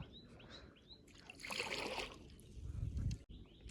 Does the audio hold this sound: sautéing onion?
no